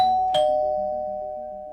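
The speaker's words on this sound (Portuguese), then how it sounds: "Naquela tarde, a campainha tocou." A doorbell rings once, a bright chime tone that sustains and slowly fades with a ding-dong pattern, alone against near silence.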